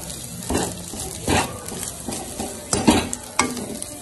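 Red chili powder sizzles in a frying pan as it is stirred, steady frying with several close scrapes and clatters of the utensil against the pan, and no talking.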